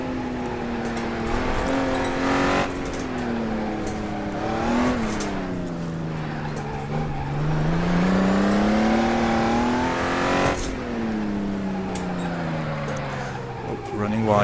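A Honda NSX drives at Buckmore kart circuit, its engine droning and rising and falling steadily as it revs through the corners, heard close throughout with someone talking over it.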